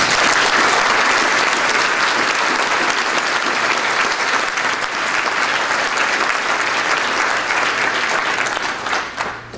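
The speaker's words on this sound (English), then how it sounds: "I'd like to take just a second or two for everyone to applaud the efforts of the current faculty" Sustained applause from a large audience honoring a school's faculty, dense and steady throughout before easing slightly at the end.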